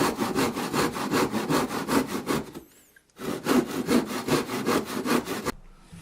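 A hand saw cuts through a wooden 1x8 board in quick, rhythmic rasping strokes, close and steady, with a short pause midway before the sawing resumes and then stops.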